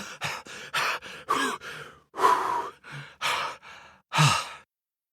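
A voice imitates a lion's heavy panting and puffing: a run of short, breathy huffs followed by longer, louder gasping exhales, close and with no words.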